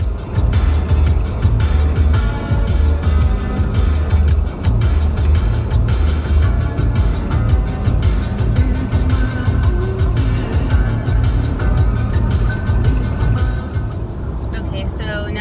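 A car driving on a highway gives a steady, loud low road rumble and cabin drone throughout, with a person talking over it.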